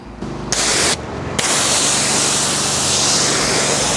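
A pressure-washer spray rinses a car from top to bottom during mobile exterior detailing, starting as two short bursts of hissing water and then settling into a continuous loud, broad spray.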